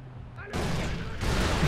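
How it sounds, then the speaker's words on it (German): Far Cry 3 grenade explosion followed by a burst of heavy gunfire, loud and dense, in a brief chaotic combat moment of the video game. "Granate weg!"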